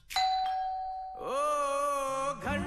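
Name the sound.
doorbell ringing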